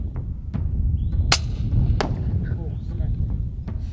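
Air rifle shots in the South African countryside while hunting dassies at over 100 meters: several sharp, short cracks stand out above a low engine-like rumble and light wind, with a voice speaking quietly in between.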